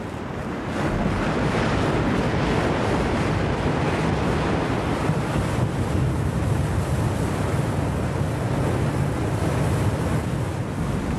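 Ocean surf washes steadily onto a black sand beach in Hawaii, a dense continuous roar of breaking waves mixed with gusty wind buffeting the microphone.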